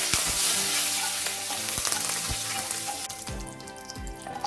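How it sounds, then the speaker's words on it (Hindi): Urad dal, cumin and mustard seeds crackle and sizzle in hot oil for a bitter gourd fry, a dense steady hiss scattered with sharp pops and a few stirring scrapes, close and loud with no talking. "Urad dal, cumin seed and mustard seed. अभी इसको अच्छे से क्रैकल होने देंगे।"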